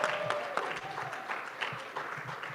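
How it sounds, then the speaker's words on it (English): A large convention audience at a federation general session claps steadily for a speaker, dense applause with a few scattered cheers rising through it, sustained and fairly close. "let's give a big round of applause, a warm Federation cheer for Jessie Danielson."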